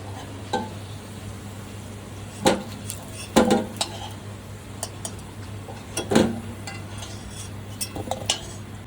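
Metal utensils scrape and clink against a pan in a few separate bursts as fried potatoes are taken out, while faint sizzling continues quietly underneath.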